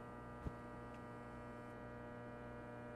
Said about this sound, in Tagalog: Para ka nasa loob ng aircon.